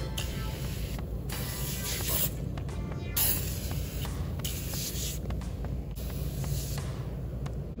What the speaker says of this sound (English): we're gonna use the aerosol can, this one, and we're gonna try to hit some of the grime, the oil and stuff, on this weed eater